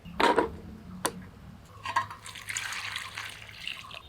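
Potatoes and pointed gourd are washed in water, with a few short splashes and drips followed by a softer stretch of running, sloshing water; no one speaks.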